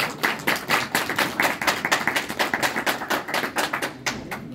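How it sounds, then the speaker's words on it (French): At a Guinean diaspora gathering in Dortmund, an audience claps in unison. The sharp, rhythmic claps repeat at a steady pace and are loud and close, with little else heard. "Applaudissez encore une fois"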